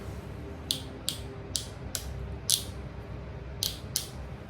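A Matsui hair clipper's very stiff lever clicks sharply, about seven crisp clicks at uneven intervals over a low steady hum of room noise, close and fairly quiet.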